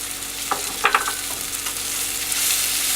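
Grated Parmesan cheese being stirred into a chicken primavera sauce in a pan on board a boat, soft sizzling under a few brief scraping and tapping stirs.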